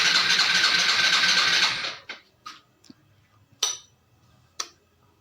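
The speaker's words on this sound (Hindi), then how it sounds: "तो इस बाइक का सेल्फ लगाता हूँ तो ये बाइक का सेल्फ प्रॉपर काम करता है" A fuel-injected Hero Super Splendor motorcycle that will not fire cranks on its electric self-starter with a steady whirring for about two seconds, followed by a few sharp, scattered clicks in near silence.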